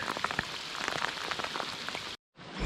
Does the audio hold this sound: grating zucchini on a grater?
no